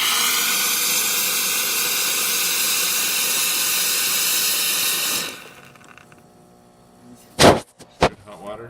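Hot water hisses steadily and loudly from the spout of an Izzo espresso machine after a full service tune-up. The hiss lasts about five seconds, then stops abruptly, followed by a couple of dull knocks and clunks from the machine.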